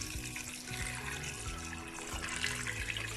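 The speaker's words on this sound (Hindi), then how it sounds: "तकरीबन 1 जग पानी का डाला है मैंने और थोड़ा सा ऊपर।" Water poured from a jug into a pot of beef trotters for pressure cooking, a steady close splashing stream that runs for several seconds without speech.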